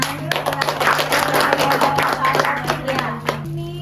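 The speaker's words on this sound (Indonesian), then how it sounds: "tepuk tangan dulu" Clapping from a small group of students in a classroom teaching session, a steady patter of hand claps running for a few seconds with a low hum underneath and some voices mixed in.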